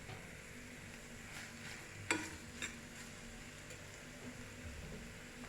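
Chopped green chillies frying in a pan for paneer bhurji, a faint steady sizzle with a sharp click near the start and a few soft stirring knocks, no talking.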